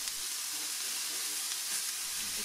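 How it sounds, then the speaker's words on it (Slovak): Sous vide meat slices searing in a pan over the highest possible flame, a steady close crackling sizzle of frying at moderate volume, alone without talk. "Mäso nakrájame a na najprudšom možnom ohni opečieme."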